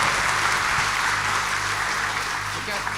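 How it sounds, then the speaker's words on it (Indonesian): An audience at a business talk event gives a boss enthusiastic applause, a dense, loud, continuous clapping that lasts throughout. "kasih tepuk tangan yang paling meriah ke bosnya Holy Wings Group, Andrew Susanto."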